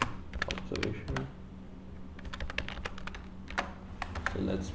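Someone types code on a computer keyboard in quick irregular bursts of crisp key taps, close and moderately quiet, separated by short pauses, with faint speech in between.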